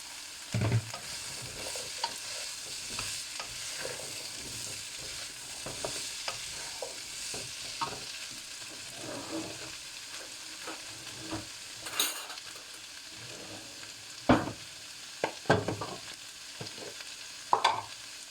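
Cauliflower frying in a pan, a low crackling sizzle broken by scraping stirs and a few sharper clatters near the end, with no talk.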